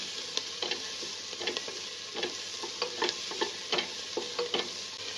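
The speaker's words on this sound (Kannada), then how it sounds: "ಒಂದು ಈರುಳ್ಳಿ ಕಟ್ ಮಾಡ್ಕೊಂಡಿರೋದನ್ನು ಸೇರಿಸಿದ್ದೀನಿ" Chopped onion fries in a small amount of oil in a pan with cardamom, a steady close sizzle broken by irregular spoon taps and scrapes as it is stirred.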